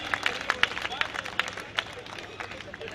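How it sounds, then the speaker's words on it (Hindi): An audience at a Hindi kavi sammelan poetry event applauds, a diffuse, mid-distance wash of scattered claps with a few sharper individual hits and faint crowd murmur underneath. "भाई तालियां जोरदार होनी चाहिए।"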